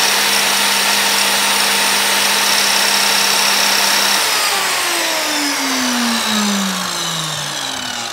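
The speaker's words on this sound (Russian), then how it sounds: "Пила работает полностью исправно." A slightly rusty electric saw, plugged into the mains, runs loud and steady during a function test, its motor whine holding level before sliding lower in pitch toward the end.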